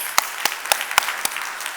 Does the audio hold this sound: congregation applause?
yes